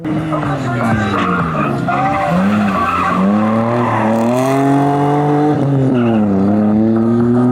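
A gymkhana car skidding through a competition run, loud sustained tire squeal rising and falling in pitch with a droning engine underneath, close by, with voices mixed in.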